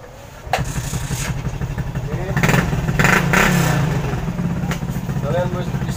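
A motorcycle engine is started with a sharp catch, then idles and revs up and down up close, with a person talking over it.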